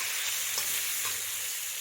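Cauliflower pieces fry in hot oil, giving a steady, close hiss of sizzling that runs evenly through the whole short stretch, with faint stirring and no voices.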